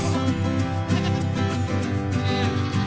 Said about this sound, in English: sheep, a lamb,